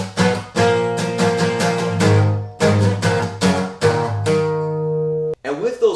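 Guitar power chords ring out as a series of strummed, sustained chords in steady rhythm, close and full, finishing with a brief scraping slide.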